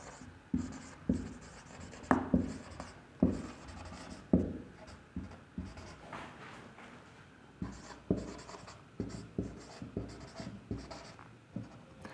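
Chalk or marker on a classroom board taps and scratches in quick irregular strokes while a sentence is written, close and fairly quiet with no talk over it.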